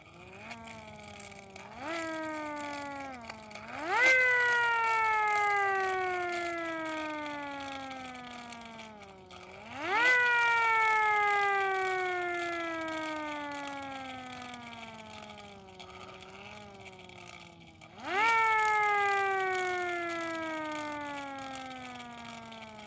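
Hand-cranked siren spun up three times, each wail rising sharply to a loud peak and then sliding slowly down in pitch, heard close and alone.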